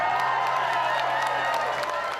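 Applause fills a state dinner hall after a performance of a song. The dense clapping runs continuously over lingering music and voices.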